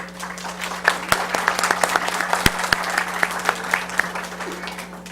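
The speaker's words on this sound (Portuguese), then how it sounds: "uma salva de palmas para o nosso convidado" Applause for a guest at a lecture on open data and transparency, a room full of clapping with several sharper individual claps standing out, over a constant low electrical hum.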